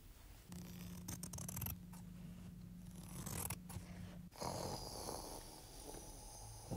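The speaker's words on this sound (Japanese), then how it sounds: "ハサミでオオカミのお腹を切って調べてみよう" Scissors snipping through a wolf's belly as a storybook sound effect, a run of quick scratchy cuts with short pauses, fairly quiet and alone.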